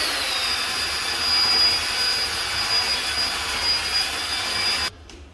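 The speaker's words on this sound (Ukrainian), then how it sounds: "перемішати на середніх обертах" A drill mixer stirs Lava decorative plaster at medium speed, producing a loud, steady whirring motor drone with a constant high whine that cuts off abruptly near the end.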